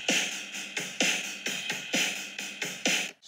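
Hip hop drum loop sample with a repeating kick and snare pattern in a steady, driving rhythm, fairly quiet but clean, heard alone and cutting off abruptly at the end.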